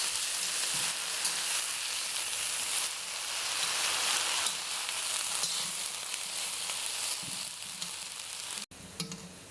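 Leheti greens sizzle and crackle loudly in a hot pan while being stirred, a dense, steady frying hiss with soft scraping of the stirring throughout, ending in a brief clatter.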